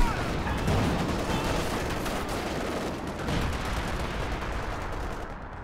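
Artillery barrage in Company of Heroes 2, a loud, unbroken wall of booming explosions and rumbling gunfire that swells and holds steady for several seconds.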